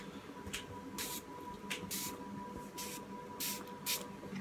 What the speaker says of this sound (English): It's just blood spray. I needed it for the film.